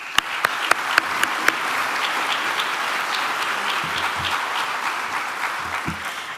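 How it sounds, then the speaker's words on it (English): A few sharp claps ring out, then a steady wash of applause from a large civic-event audience carries on loudly for several seconds. "Help me give them a great round of applause."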